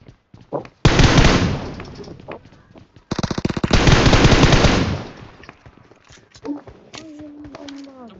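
Video game gunfire rattles in two long, loud automatic bursts, with scattered single shots and brief game sounds between them and a faint tone near the end.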